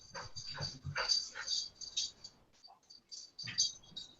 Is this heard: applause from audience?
no